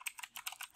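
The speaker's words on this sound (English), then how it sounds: "Okay, so let me start typing that in." Rapid computer keyboard typing while entering code, a quick near burst of light clicking keystrokes in uneven clusters with no talk.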